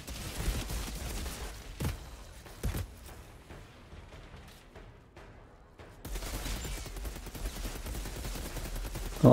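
Rapid bursts of gunfire from the video game Outriders, played in endgame at a ruined tower, sounding as repeated loud volleys with a brief quieter gap before firing resumes densely.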